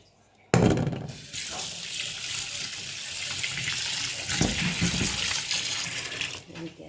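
A kitchen tap runs strongly onto fish being washed in a sink, the steady rush of water starting abruptly and splashing continuously for several seconds before easing off.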